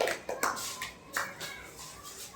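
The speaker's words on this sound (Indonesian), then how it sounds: "beri tepuk tangan dulu untuk kelompok 1" A school class claps for a student group in a classroom, giving a short burst of scattered, uneven hand claps that fade quickly.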